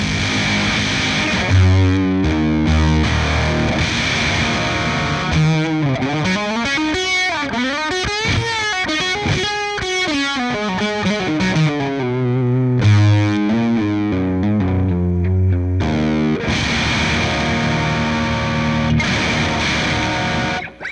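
An electric guitar runs through a Boss DS-1 distortion pedal, playing loud sustained chords and bends with heavy saturated grit and a bright edge, continuous for about twenty seconds with no talking.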